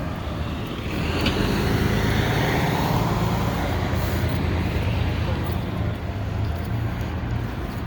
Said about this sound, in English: Truck 210 coming.